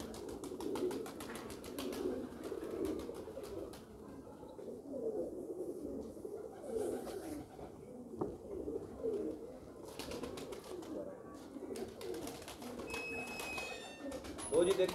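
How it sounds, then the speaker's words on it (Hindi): Roze wale breed pigeons cooing close by in soft repeated low coos, with people talking over them throughout and a sharp click partway. "रोजे वाले जी, रोजे वाले कबूतर"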